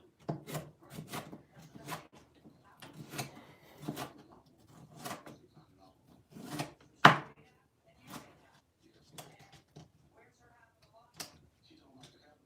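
A knife chops ingredients for holiday cornbread dressing on a wooden board in a home kitchen, striking in irregular sharp thuds with pauses between, fairly close, with soft rubbing and scraping sounds mixed in.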